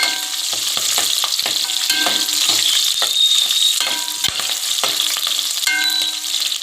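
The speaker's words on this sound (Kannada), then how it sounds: "ಸ್ವಲ್ಪ ನೀಟಾಗಿ ಫ್ರೈ ಮಾಡಿಕೊಂಡು" Mushrooms sizzling steadily in a pan while being fried for mushroom biryani, with a constant hiss and frequent clinks of a spoon stirring against the metal.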